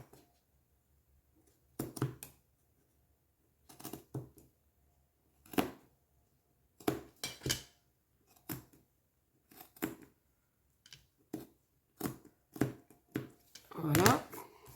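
Repeated scissor snips through macrame cord while making a Christmas card, sharp close cuts in short irregular clusters separated by quiet pauses.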